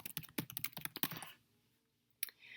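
Fast, close keystrokes clatter on a computer keyboard while text is typed into a digital annotation, then break off into silence before one more sharp key tap.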